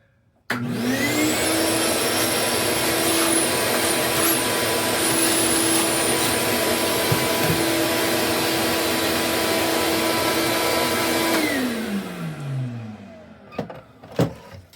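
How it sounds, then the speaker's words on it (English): A vacuum cleaner sucks dust out of an Xbox Series X console. The motor's whine starts abruptly, holds a loud, steady tone for about eleven seconds, then winds down, followed by a few faint clicks. "already vacuumed out a majority of the console"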